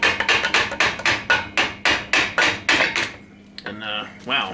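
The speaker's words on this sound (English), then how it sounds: "I just have a brass mallet. So I'm just going to lightly tap on it." A brass mallet lightly taps a Yamaha G1 flywheel during crank seal replacement, about a dozen sharp, evenly spaced metallic knocks close up, followed by quieter handling noises at the end.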